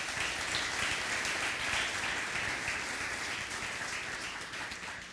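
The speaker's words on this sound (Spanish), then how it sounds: "Vamos a alabar al Señor con un aplauso" A church congregation applauds in praise, a steady, fairly faint wash of clapping that holds evenly and slowly tapers off.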